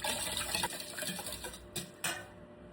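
Batter for ube cupcakes being mixed in a bowl with two large eggs, a steady close scraping and stirring with soft clinks of utensil against the bowl, alone and without talk.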